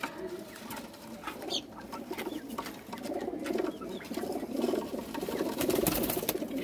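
Paired pigeons, fit and active birds, being shown at a dealer's place in Gujranwala: soft cooing, rustling and wing flutters close by, with scattered patter and shuffling building slightly over several seconds.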